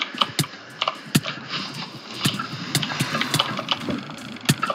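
Mouse clicks during Minecraft PvP combat, a run of sharp, irregularly spaced taps, some louder than others, over faint background noise.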